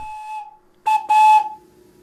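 A homemade wooden three-note whistle sounds in short blasts: one clear tone, a pause, then two quick loud breathy toots with a slight chord-like mix of pitches.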